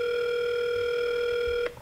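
A steady telephone tone sounds while a call is placed to a car dealer about an electric car. The tone holds evenly, then cuts off abruptly near the end.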